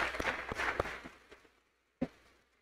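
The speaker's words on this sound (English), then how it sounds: "And a big round of applause for those two." Graduation-ceremony audience at Goodrich High School giving brief applause, a scattered burst of clapping that fades out within about a second and a half, followed by one sharp isolated clap-like thump.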